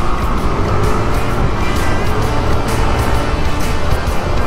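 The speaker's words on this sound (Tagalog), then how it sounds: "Mga gandang kotse." Cars drive past on a road in Antipolo, a loud, continuous engine and tyre roar that stays close and steady throughout, with no pauses.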